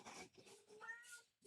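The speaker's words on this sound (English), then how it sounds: "I don't want you fucking meowing while I'm doing it" A nearby house cat meows in several short, breathy cries in quick succession, one rising into a clearer tonal meow, fairly faint overall.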